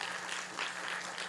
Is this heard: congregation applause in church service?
yes